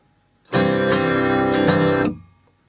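Acoustic guitar strumming pattern number three for a song, one sustained ringing chord with a few quick accented strums over about a second and a half, close and clear, no talking.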